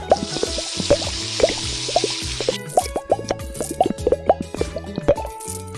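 Water splashing and dripping from a shower in an animal hair salon video game: an early rush of spray, then a run of rhythmic plops and drips, fairly loud and alone.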